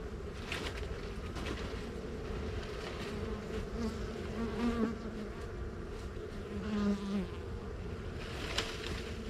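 Bees buzz around a farm hive, several insects droning near and far with rising and falling whines as individuals pass close, over a soft steady background, fairly quiet overall.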